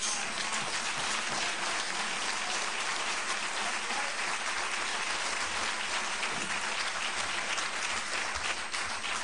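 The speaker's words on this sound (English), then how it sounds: "that applause comes from not the working press" Audience applause at a National Press Club event with Rev. Jeremiah Wright runs as a constant rain-like patter of many hands, moderately distant and uniform for about nine seconds.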